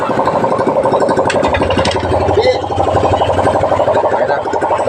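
A loud motorcycle engine runs steadily close by, a dense continuous drone with faint clattering on top, alone without talk.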